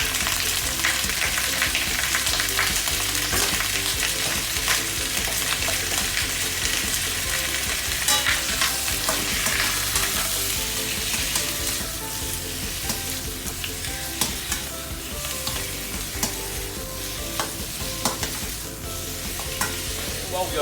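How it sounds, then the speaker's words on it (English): Chicken pieces stir frying in hot ginger-infused oil, a loud, continuous sizzle with frequent scraping and tossing of the spatula in the pan, close up and without talk. "While we are stir frying this,"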